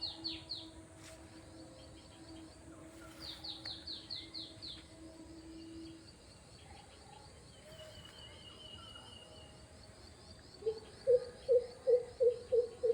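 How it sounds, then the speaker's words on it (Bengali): Birds calling in a forest clearing with red flowers, deep in a village area: scattered chirps and whistles near and far over a steady insect-like hum, with a run of repeated sharp calls near the end. "শুনতে পাচ্ছেন"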